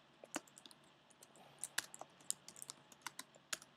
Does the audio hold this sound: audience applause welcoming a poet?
no